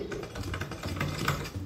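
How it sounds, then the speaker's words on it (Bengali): A sewing machine stitches a blouse at close range in a quick, even run of needle clatter, with a steady motor hum under the rapid ticking and no voices. "এইভাবে সেলাই করে যাব।"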